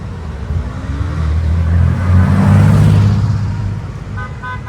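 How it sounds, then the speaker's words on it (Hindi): A Waymo driverless car on a Los Angeles road passes close by with a loud, building engine and tire rumble that peaks midway, then eases off as a brief horn toot sounds near the end. "ये यहाँ का वो वेमो है जो बगैर ड्राइवर के ये गाड़ी चलती है"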